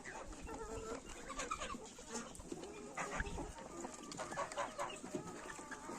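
Chickens cluck close by in short, repeated bursts, with a rooster among them and faint farmyard noise underneath.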